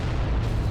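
Volcano cannon fire in the Adeptus Titanicus game, a loud sustained low rumbling blast filling the whole brief moment with heavy bass weight.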